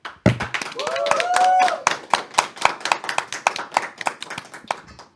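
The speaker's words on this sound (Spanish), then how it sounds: "Despedimos a Rolando Tobit con un fuerte aplauso" A small audience claps in crisp, uneven rhythm for a little over five seconds, with a brief voice heard early over the applause.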